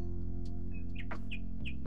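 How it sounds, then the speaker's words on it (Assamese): A bird gives several short, sharp chirps, spaced irregularly over a steady low mechanical hum. "ঘনচিৰিকাক আমি ইংৰাজীত কওঁ"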